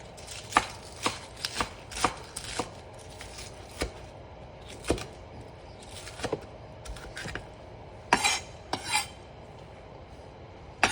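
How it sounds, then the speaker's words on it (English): A kitchen knife slices vegetables into circles on a cutting board, giving a string of sharp, irregular chops and taps close by, with no talk. "Slice them into circles."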